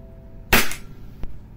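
A Cybergun Canik TP9 Elite Combat airsoft pistol fires one loud, sharp, close shot with a short ringing tail, then a faint click follows a moment later.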